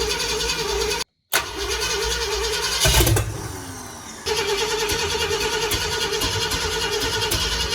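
Old red Ford F-100 truck engine cranking over, catching and settling into a rough, loud idle, with a short dropout near the start and a surge as it fires.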